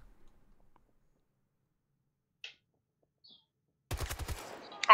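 A deployed automated turret in Battlefield 2042 fires a short, rapid burst of gunfire after a stretch of near silence and a couple of faint clicks, loud and close.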